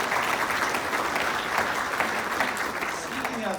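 An audience at a State of the City 2022 event in Guelph applauds a staff member from the mayor's office, a steady, dense round of clapping that holds at even loudness for the whole stretch, with murmured voices faintly underneath.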